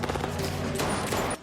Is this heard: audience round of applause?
no